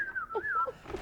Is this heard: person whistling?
yes